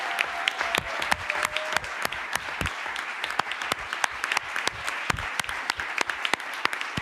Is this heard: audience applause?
yes